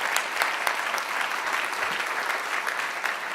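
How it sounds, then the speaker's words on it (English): Applause fills a convention hall, a thick, steady spread of clapping from a sizable audience, fairly close and loud, with a few sharper individual claps standing out. "Give them a round of applause."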